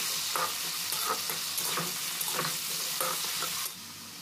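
Potato strips fry in hot oil in a wok, a steady dense sizzle with repeated scrapes and stirs at a regular rhythm, close and fairly loud, with no voices.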